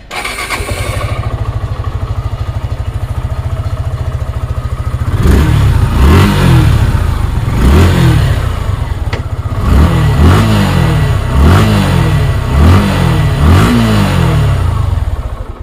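A second-hand Suzuki Gixxer SF Fi ABS motorcycle idles loud and close with a rapid even throb, then is revved several times in a row, each blip swelling and falling back before the next.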